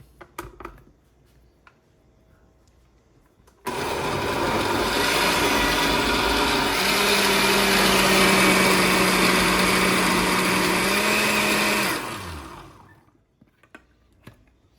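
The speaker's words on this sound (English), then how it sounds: "And then we're gonna blend this up." Blender whirring up a red herb sauce with Greek oregano, kicking on abruptly and running loud and steady for about eight seconds, its motor pitch shifting midway, then spinning down to quiet.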